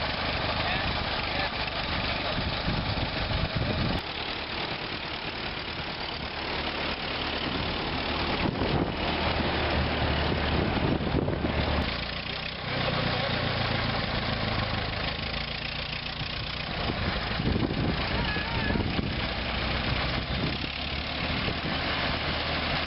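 A rugged World War I era truck's engine idles in a steady, continuous rumble throughout, with a voice talking over it.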